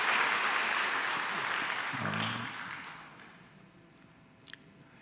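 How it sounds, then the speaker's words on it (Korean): A church congregation at a Sunday worship service applauds, a broad wash of clapping that starts fairly loud and fades out over a few seconds, with a brief low murmur in the middle. "우리 박수 감사합니다."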